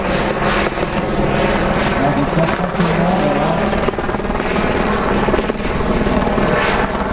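A model helicopter's steady, loud rotor drone runs throughout at an air show, with a couple of voices speaking briefly over it.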